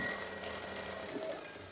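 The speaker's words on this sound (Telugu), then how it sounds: "ఇలా స్ట్రైట్ గా ఒక స్టిచ్ వేసుకోండి." A sewing machine stitches a straight seam while piping is attached, giving a short, steady, close mechanical whir with no pause.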